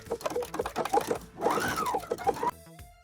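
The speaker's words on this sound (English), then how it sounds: "let's sew a seam with it and see if the seam pulls apart or is it gonna be strong enough?" A sewing machine stitches a seam with old vintage thread: a rapid, close mechanical patter whose motor whine rises and falls in pitch, then cuts off, leaving a brief quieter pause at the end.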